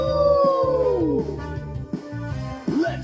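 A voice imitates a wolf howling, a loud, near, falling wail that slides down in pitch over about a second, followed by a shorter yelping howl over a gentle music bed.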